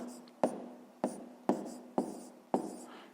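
Numbers being written by hand, five evenly spaced sharp taps of pen on paper about half a second apart, close and fairly quiet.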